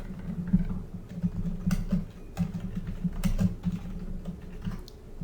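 Steady typing on a computer keyboard as a project title is entered, a run of quick, close key clicks with a low background hum and no talking.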